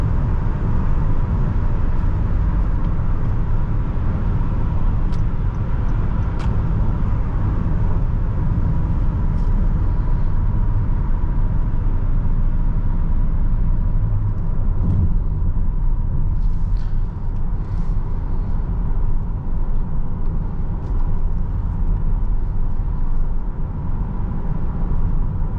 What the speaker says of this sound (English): Surprisingly easy to drive this Odyssey.